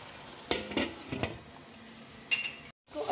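A spoon stirs and breaks up chicken keema frying in a pan, giving a few scraping clinks against the metal over a low sizzle, with a short silent gap near the end.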